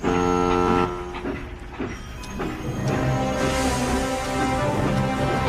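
Henry, a steam engine, steams out of the station hauling the long, heavy Flying Kipper train, with a loud continuous rumble and hiss and a brief whistle-like tone near the start, no talking.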